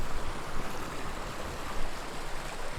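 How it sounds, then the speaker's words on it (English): Indian Creek, a mountain creek on the Wasatch Plateau, flows with a steady, full-band rush of water, close and continuous with no pauses or voices over it. "we're right by this crick, Indian Creek"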